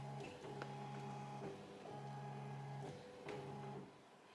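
An embroidery machine contour-traces a design on the side of a hat, giving a steady motorized whir with tonal hums that pause and restart in short stop-start moves, close and alone with no talk.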